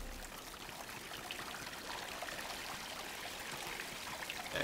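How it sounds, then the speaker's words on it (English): Water flows upward in the video game Salt and Sanctuary, a faint, continuous trickling stream that stays soft and even from start to finish. "So water flows up"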